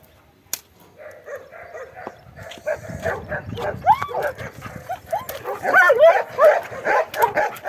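A dog yips and whimpers amid rustling and background voices, with short high cries growing busier and louder toward the end.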